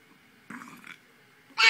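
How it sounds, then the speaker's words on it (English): A short, soft burp sounds in a quiet room, followed by a louder, brief throaty sound at the very end. "She burped."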